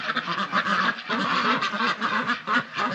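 A flock of white Pekin ducks under five months old quacks continuously at a duck farm, a dense overlapping chorus of nasal calls close by.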